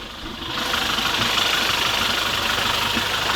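A Jeep engine drones steadily as it climbs an unfamiliar mountain track in Ireland while clearing routes for off-roading, loud and close, rising in the first half second then holding a rough, continuous rumble.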